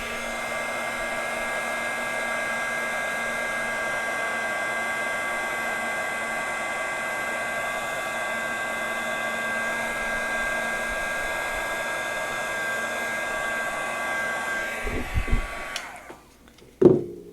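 A heat tool blows a steady, loud whirring hum for about fifteen seconds while melting embossing powder on a handmade card, then switches off with a few close clicks and handling knocks.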